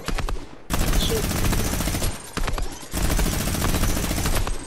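Dense video-game gunfire in two long sustained bursts separated by a brief lull, loud and close, with rapid automatic shots packed together.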